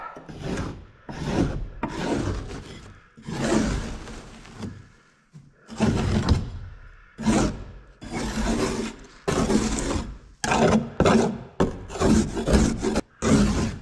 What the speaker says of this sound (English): see if I can scrape some of this off.